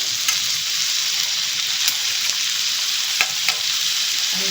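Softened onion with two finely chopped tomatoes frying and being stirred in a pan for tawa prawns masala, a steady close hiss of sizzling with occasional light clicks of stirring.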